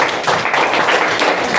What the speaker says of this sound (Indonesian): Silakan tepuk tangan ya.